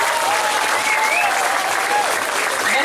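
Loud, dense applause from a crowd at a village feast celebration, steady throughout, with faint whistles or cheers riding over the clapping.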